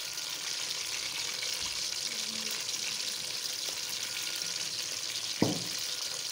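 Two chopped onions fry in ghee for Pakistani masoor dal, giving a steady, close sizzle that runs evenly throughout, with a single sharp knock of a utensil near the end.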